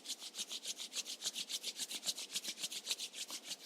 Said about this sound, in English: let's gently start rubbing our palms.